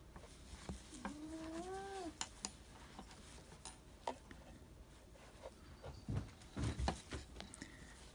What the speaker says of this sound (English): I'm now being invaded by my large black cat who wants attention.